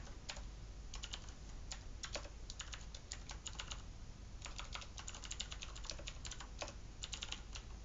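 Computer keyboard typing while writing code, with bursts of quick clustered keystrokes and short pauses, steady and close over a low hum, no voices.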